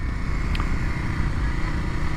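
A 2021 Kawasaki KLX 300SM motorcycle runs steadily while being ridden, its engine a constant close rumble mixed with wind noise for a couple of seconds, no talk.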